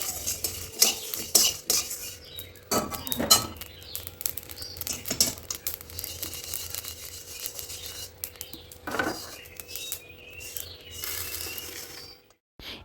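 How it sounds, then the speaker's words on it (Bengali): Spices for a sweet-and-sour raw mango pickle fry over low heat in a pan, with steady scraping and clinking of a metal spoon as they are stirred. Close, fairly quiet, with no talking. "খুব ভালো করে মশলাটাকে আমরা ভেজে নিচ্ছি একদম লো আছে যাতে মশলাটা পুড়ে না যায়"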